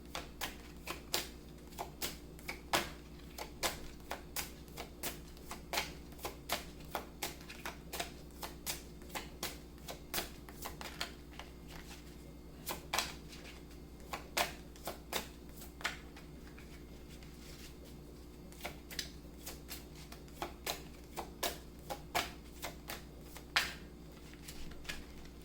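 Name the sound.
tarot cards being shuffled and drawn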